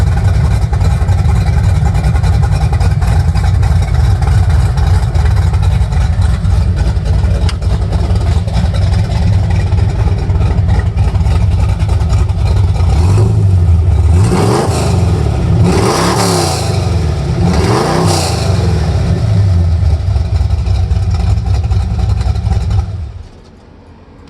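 A 1958 GMC pickup truck's engine runs loud and steady, then revs hard in several rising and falling bursts near the end before cutting off abruptly.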